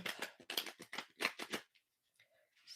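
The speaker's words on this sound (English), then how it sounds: "It's a little hard to shuffle this one" A heavy-weight, antique-looking tarot deck is shuffled by hand, giving a quick series of crisp riffling bursts up close before the cards go quiet.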